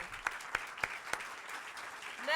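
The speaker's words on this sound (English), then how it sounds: "Another round of applause for her." A round of applause from an awards-ceremony audience after a speaker's turn, steady clapping throughout with a few sharp louder claps standing out.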